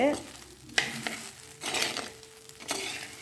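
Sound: stirring sago and sweet potato kichadi in a pan

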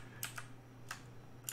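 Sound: typing keyboard shortcuts on a computer keyboard

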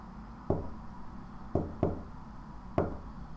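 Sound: knocking on a door in the video game Chaos;Child

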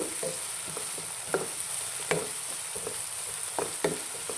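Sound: frying ivy gourd (dondakaya) with onions in a pan

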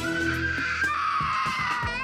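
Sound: toddler screaming to get his way

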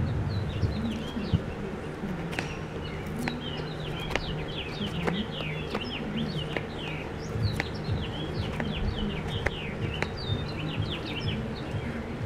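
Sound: birds singing outdoors

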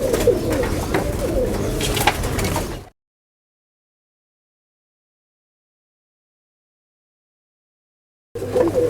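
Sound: Rajshahi Giribaj pigeons cooing

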